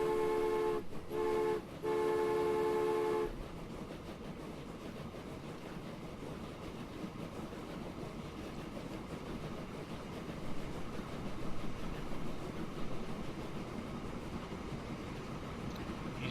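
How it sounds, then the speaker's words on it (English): Train rolling past in the rail-building game Transport Fever: two loud sustained horn toots at the start, then a steady rumbling pass of rail cars that continues to the end without talk. "Train's coming through."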